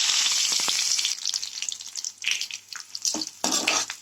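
Chopped onions added to hot oil with crackling mustard seeds, for a prawn theeyal, sizzle in uneven bursts with stirring scrapes, loud hissing rising and falling between pauses, no talking.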